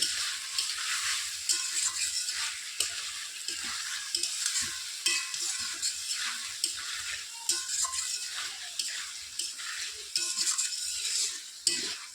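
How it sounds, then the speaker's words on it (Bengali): Spiced cauliflower and potato pieces are stirred in a hot pan, a continuous sizzling fry with scraping, rattling strokes of a utensil, close and steady, with no voices. "ভালো করে এখন নেড়ে চেড়ে নিন যাতে মশলাগুলো ঢুকে যায় ফুলকপি আলুর মধ্যে"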